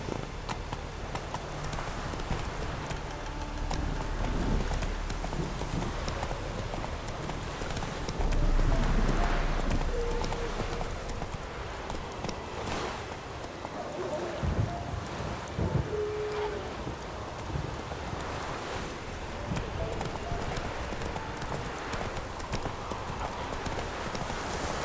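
A horse gallops in Witcher 3 during a rainstorm, steady hoofbeats pounding through hissing rain and rumbling thunder, with brief voices and a quick command over the ride.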